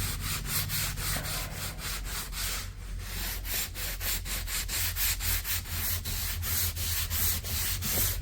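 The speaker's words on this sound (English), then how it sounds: "All right, a little light sanding." Light hand sanding on a trailer repair surface, a steady run of rhythmic back-and-forth rubbing strokes, close and fairly quiet, with no voices.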